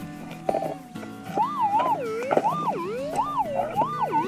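Metal detector sweeping ground while prospecting for gold produces a loud, warbling electronic tone that rises and falls in repeated waves, with no voices.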